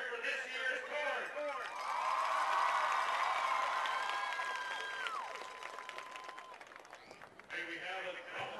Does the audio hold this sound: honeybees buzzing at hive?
no